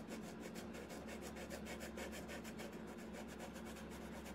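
Coloring in a drawing on a homemade piggy bank: faint, close, quick repetitive rubbing strokes in an even, continuous rhythm, with no speech.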